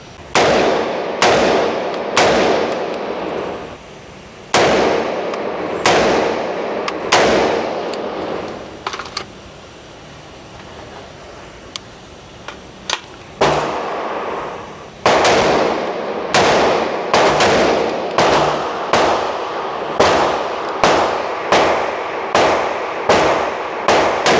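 Rifle shots fired in a shooting drill, a long string of sharp, loud reports at a steady pace, with a pause for a magazine change midway before the rapid firing resumes.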